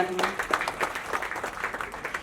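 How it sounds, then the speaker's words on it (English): An audience at a book awards ceremony claps in a moderate, uneven patter with a host's voice running over the top throughout. "Can we have a huge round of applause for them"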